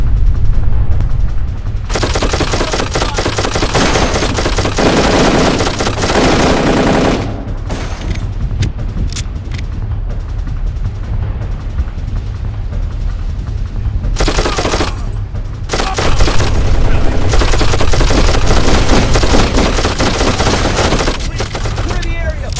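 Darkest of Days erupts in dense, loud machine-gun fusillades that fire in long sustained bursts, broken by a few short gaps before the shooting resumes.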